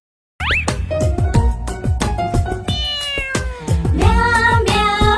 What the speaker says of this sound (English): Meow, meow, meow, meow. Billy karti meow.